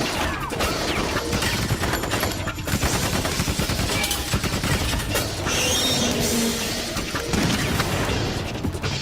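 Gunfire in the video game Metal Gear Solid 2, with repeated pistol shots and crashing impacts filling a dense, loud game mix of constant action and effects with no clear pauses.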